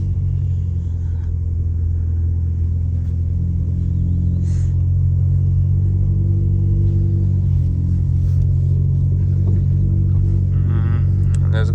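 Engine of a 2015–2021 Subaru WRX turbo running as the car pulls away, a loud steady low rumble from inside the cabin with slight rising revs and faint clicks.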